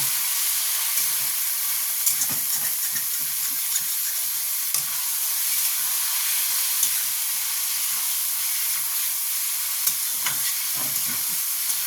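Chicken keema fries in a pan with a constant soft sizzle and hiss, broken now and then by the light scrape and clack of stirring; moderately quiet and close, with no voices.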